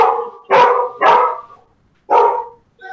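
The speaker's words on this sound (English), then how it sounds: "every time I talk, dogs bark" A dog barks four times, loud and close, in a rough rhythm with a short gap before the last bark, and no talking over it.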